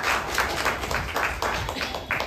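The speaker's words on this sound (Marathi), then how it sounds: "मी जोरात टाळ्या वाजूया परिवार" A family claps together in a quick series of sharp, uneven hand claps, moderately loud and close, with no other sound over them.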